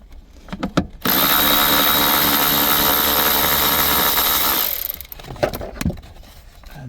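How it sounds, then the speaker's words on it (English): A power tool loosens 10 millimeter nuts on a 2012 Chevy Spark, running as a single loud, close burst of about four seconds between brief clinks and handling noises. "we can unbolt from the other side and pull it out"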